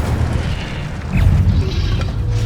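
The Incendio fire spell in Hogwarts Legacy lets out a deep rumbling burst of flame that swells partway through, roaring loud and low over the game's ambient sound with no talk.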